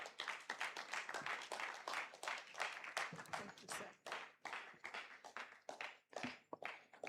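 A debate audience gives a dean a round of applause, a quick patter of many hands clapping, faint and somewhat distant in the hall.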